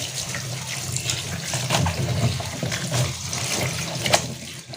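Tap water runs steadily into a bowl to soak leafy greens for a home-cooked Bengali meal, a continuous close splashing and gurgling flow with no talk.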